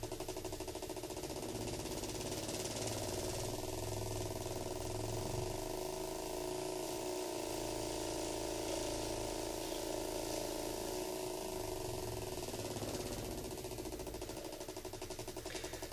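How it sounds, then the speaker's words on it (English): A small tuna-can Rodin coil magnet piston engine runs steadily with a continuous hum and fast rhythmic buzzing, constant in level for the whole stretch. "Sounds like a real engine here."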